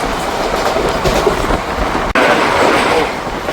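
A passenger train on the Ambala Cantt to Bathinda Junction route, number 54551, runs at speed. Its loud, steady rumble and rhythmic clickety-clack of the wheels are heard close up from on board, with a brief dropout midway.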